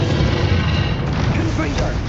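A Confringo blasting spell bursts in Hogwarts Legacy combat, a loud, continuous booming rumble that holds steady and fills the whole moment.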